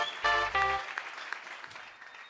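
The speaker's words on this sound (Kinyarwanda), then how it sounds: "Komera Imana amashyi" Congregation applauding during a church service, a loud burst of clapping at the start that fades to scattered claps, with some toned sound briefly underneath.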